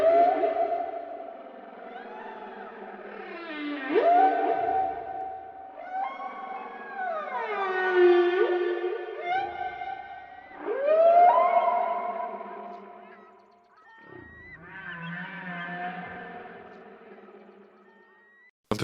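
Recorded whale song with long, echoing moans and sweeping tonal calls that rise and fall in several separate phrases, some swooping upward and others gliding down, heard alone without talk.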